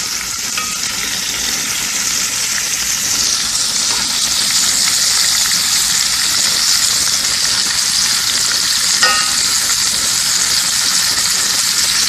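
Flank steak fajitas with fajita seasoning sizzle loudly on a hot cooking surface, a dense continuous hiss and crackle that swells slightly as the meat is tossed and mixed, up close.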